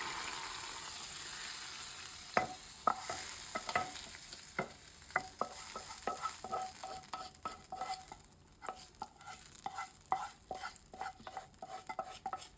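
Whole cumin and garlic fry in a pan while a spoon stirs them, giving a soft, steady sizzle broken by frequent light scraping taps. The sound is close and quiet, with no talking.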